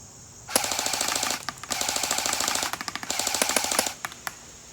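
A CYMA MK12 Mod1 airsoft DMR-style rifle fires full auto in three sustained rapid bursts, close and loud, with a few quick single clicks between them and no talking.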